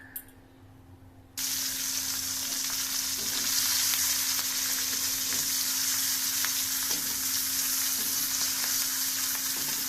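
Washed vegetables hit hot oil in a pan and burst into loud, continuous frying and sizzling after a short quiet moment, close up and steady, with no voices.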